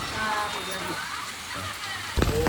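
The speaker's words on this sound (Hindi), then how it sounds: "बारिश हो रहा है" Rain falls steadily at Kailashgiri in Vizag as a broad, hissing wash with faint voices underneath, ending in a louder burst of noise.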